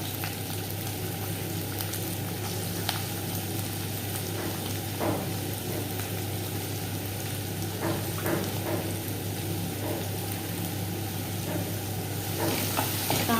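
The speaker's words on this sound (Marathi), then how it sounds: "कढईमध्ये मस्तपैकी आपल्याला जिरा टाकून घ्यायचं" Steady crackling sizzle of cumin seeds in hot oil in a kadhai, with a low hum underneath, a few faint pops and clinks, no talking.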